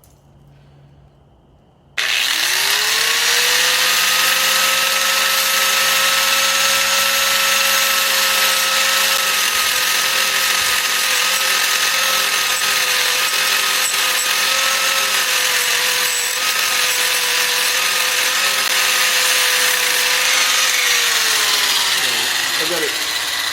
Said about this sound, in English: So I got my grinder. I'm gonna grind it off.